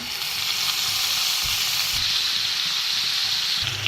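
Fish frying in hot oil, a loud unbroken hiss and crackle close up, with faint low knocks from the pan underneath and no talk.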